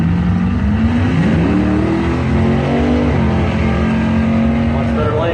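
A Camaro drag car launches down the strip at a doorslammer event, its engine roaring loud and rising in pitch as it accelerates hard, with a track announcer's voice layered over the noise.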